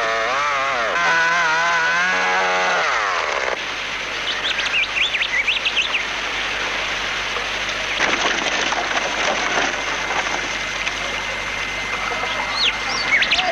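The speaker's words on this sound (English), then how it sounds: "fallen trees present a new kind of hazard, but the chainsaw makes easy work of it" A chainsaw revs with a wavering whine for a few seconds, then gives way to a steady broadband roar cutting a fallen tree on Cape York, with birds chirping over it.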